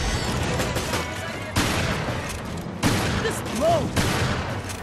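Rapid gunfire in Resident Evil: Revelations, loud close bursts of shots in several long strings separated by brief breaks, with a few shouts or grunts mixed in.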